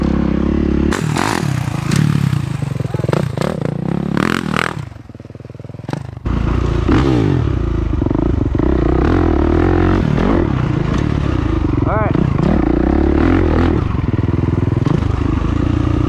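A motorcycle charges in second gear toward a big jump, its loud, close engine roaring and revving with rattling chassis noise and a brief dip in power before it surges again.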